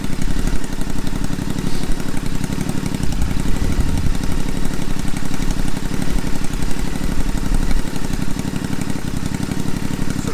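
A Royal Enfield Interceptor 650 motorcycle fitted with slash pipe exhausts idles steadily, giving a loud, continuous low rumble with an even, fast pulsing beat and no voices throughout.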